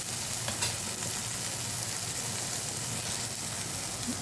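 Tomato fries in oil with turmeric for sambar, a soft, steady sizzle with faint stirring scrapes, quiet and continuous.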